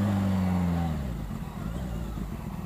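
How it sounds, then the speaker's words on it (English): A Kawasaki Ninja H2 motorcycle with an auto blipper shifting down, its engine tone dropping at about one second and then settling into a rumbling, uneven idle-like drone heard from the rider's position. "Gotta love bikes with auto blipper, eh?"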